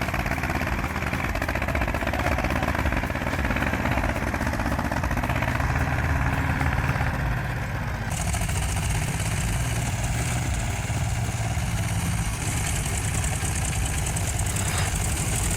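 Tractor engines labour under heavy load while two tractors pull on a chain to drag out a firmly rooted stump, a loud, steady, continuous drone that runs throughout with no pauses.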